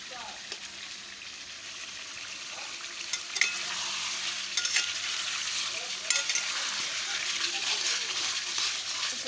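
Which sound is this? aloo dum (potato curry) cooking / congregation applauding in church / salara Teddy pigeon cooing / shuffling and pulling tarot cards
aloo dum (potato curry) cooking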